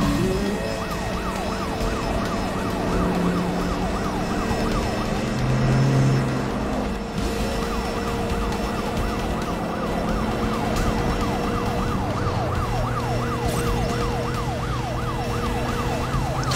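Police sirens in the Need for Speed The Run racing game wail continuously in rising and falling sweeps, loud and close over a steady engine drone, with no voices.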